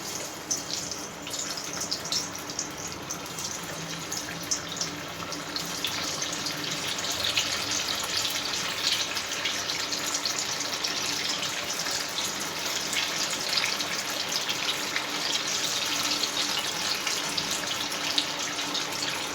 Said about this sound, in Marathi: आता मी डीप फ्राय करून घेणार आहे।